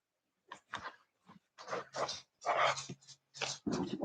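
A dog makes a series of short, close whining and yelping sounds in irregular bursts, with brief silences between them.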